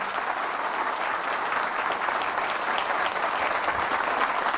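Steady, loud applause from a large church congregation, sustained clapping filling the whole stretch without a break.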